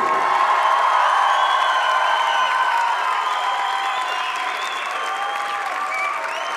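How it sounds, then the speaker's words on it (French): A large gathered audience at a church youth event claps and cheers for an extended stretch, the sound steady and broad, with whoops and raised voices blending into the applause. "on veut faire un grand applaudissement à Jésus"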